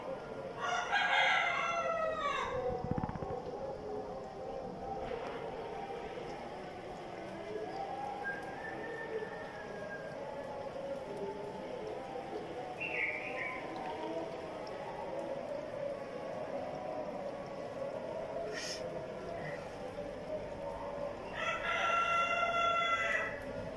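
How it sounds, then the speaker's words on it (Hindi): Roosters crow on the morning of Eid after heavy rain, a few distinct calls near the start and again near the end over a quiet rural background, with faint speech between them. "मुर्गे मेरे बांग दे रहे हैं।"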